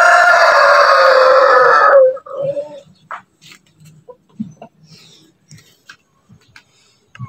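A rooster crows loudly and close for about two seconds, then a few scattered soft clucks and rustles follow.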